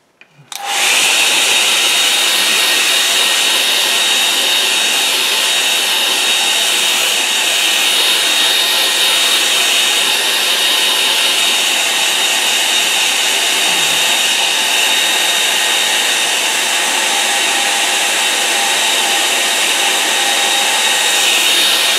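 A hair dryer blowing on a wet painting starts after a brief click and then roars in a loud, steady, close whoosh that holds unbroken to the end, with no voices.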